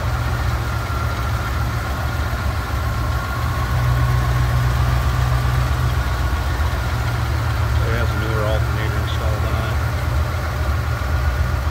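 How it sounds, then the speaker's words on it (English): A 1973 Mercury Cougar XR7 two-door hardtop's V8 idles steadily with a low, even rumble throughout, close and constant, with brief faint higher chirps partway through. "Smooth running V8 again"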